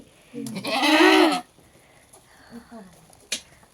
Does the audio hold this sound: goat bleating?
yes